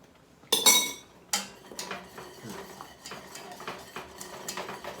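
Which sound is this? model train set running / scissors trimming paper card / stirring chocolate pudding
stirring chocolate pudding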